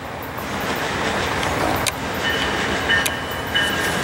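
A Metrolink commuter train pulls into Fullerton station with a steady, loud rolling rumble, while a thin sustained tone rises above it in the second half.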